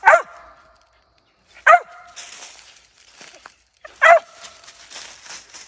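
A dog barks three times at a squirrel, loud and sharp, spaced a couple of seconds apart, close by in Alabama woods, with quiet outdoor background between them.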